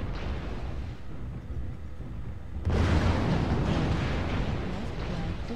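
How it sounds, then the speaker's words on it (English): Missile explosions rumble in MechWarrior Online, a steady low roar that jumps to a louder, broadband blast partway through and holds as dense, continuous detonation noise. "Warning, incoming missile."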